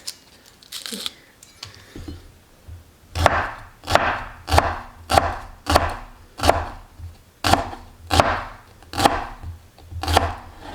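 A knife slices through food on a cutting board during shrimp scampi preparation with asparagus and tomato, giving about ten evenly spaced, crisp, close chops after a couple of softer cuts.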